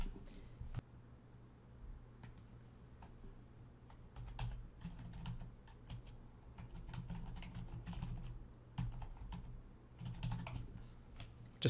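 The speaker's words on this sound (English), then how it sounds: "I'm going to type in here" Close, quiet typing on a computer keyboard: irregular bursts of light key clicks with short pauses between words, continuing throughout.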